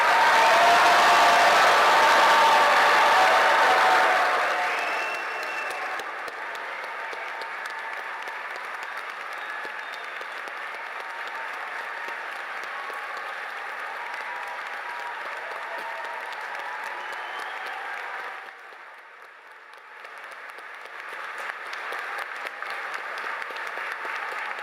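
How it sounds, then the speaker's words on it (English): Applause fills a commencement ceremony for a graduating class of 2022. It opens loud and dense, then settles into steadier, softer clapping from a large crowd that dips briefly and picks up again near the end. "Let's now have a round of applause for the class of 2022."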